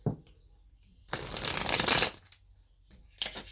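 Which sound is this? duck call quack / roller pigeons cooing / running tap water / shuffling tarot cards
shuffling tarot cards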